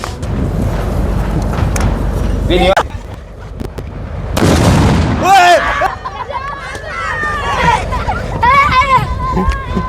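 Loud Diwali firecracker bomb blasts burst out amid a noisy outdoor crowd, with people shouting and chattering around each sharp bang.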